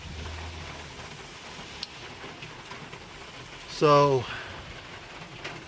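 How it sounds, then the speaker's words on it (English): Heavy rain beats on a van roof as a steady, even hiss that runs throughout. Someone briefly says a word partway through. "Raining pretty hard, too."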